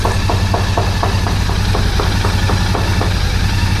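A Royal Enfield Continental GT650 motorcycle engine idles steadily close by, a constant low rumble with a faint regular ticking pulse throughout, loud and alone with no voices.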